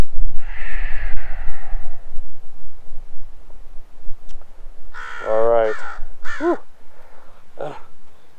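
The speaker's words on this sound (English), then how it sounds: "Okay, the crows are everywhere." Several crows caw loudly outdoors in a cluster of harsh calls, following a stretch of quiet breathing and a brief voice during a restorative yoga session.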